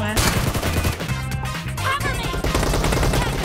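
Dense gunfire in a shooting video game, a loud busy stretch of rapid overlapping shots and bursts that runs throughout the clip under music and game noise.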